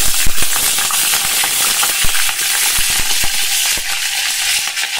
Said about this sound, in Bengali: আমি কাতলা মাছের মাথাটা সর্ষের তেলের মধ্যে দিয়ে দিয়েছি